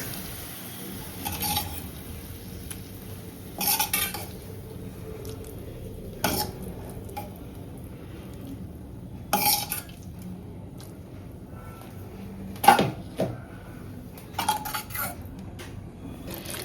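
Tempering gets stirred into vegetable khichdi in a pot, a spoon scraping and clinking against the metal in about eight separate bursts over a quiet background.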